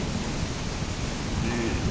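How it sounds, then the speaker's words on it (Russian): Rain with thunder pours steadily in the Chinese countryside during a bicycle trip, a dense unbroken hiss with a low rumbling underneath, close and loud, and no talking. "Дождь еще продолжается."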